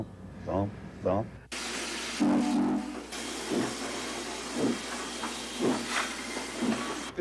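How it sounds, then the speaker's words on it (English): Rhythmic breathy thumping of steam air pumps under a constant loud hiss, with regular puffs repeating steadily, close by. "either the air pumps working, which sound just like they're breathing"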